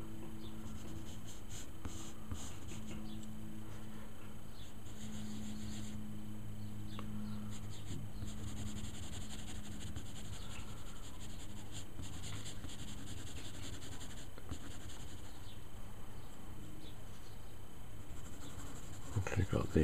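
Pencil sketching a demon dog on paper, a faint, continuous scratchy stroking that sits under a steady low hum in a quiet room.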